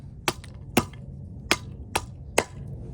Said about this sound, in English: Just look how good that bites into that wood.